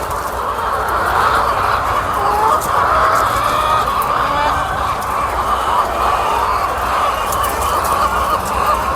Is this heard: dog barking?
no